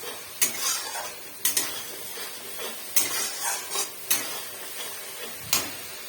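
Hot oil with turmeric sizzling and spitting in a pan, a steady frying hiss broken by sharp clanks of a utensil against the pan roughly every second, close and fairly loud.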